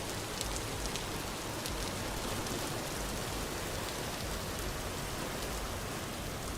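Steady rain falls in the Vintage Story video game, a dense, even hiss of drops that holds unbroken throughout.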